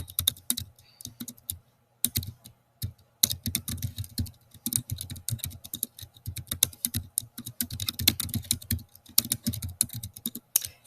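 Close, rapid keystrokes on a computer keyboard as a password is entered on a sign-up form, irregular clusters of clicks with short pauses and no talking.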